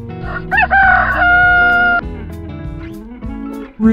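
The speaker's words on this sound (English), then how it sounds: "Rooster." A farm rooster crows one loud, drawn-out cock-a-doodle-doo with a rising opening and a sustained tail, close and clear over light background music.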